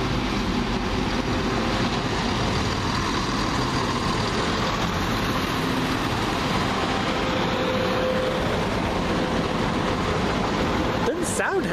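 A London Midland passenger train sits at Wolverhampton station, a dense, steady engine rumble with mechanical clatter filling the platform. A voice speaks over it and a sharp burst comes at the very end.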